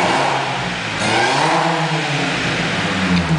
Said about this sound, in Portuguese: eu vou acelerar o motor, porém eu vou acelerar bruscamente